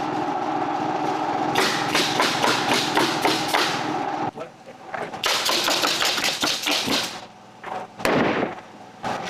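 Rapid bursts of nail gun shots fastening 3/4-inch plywood sheathing onto a shed floor frame, loud and close, coming in quick strings of hits with short pauses and scattered single thumps between runs.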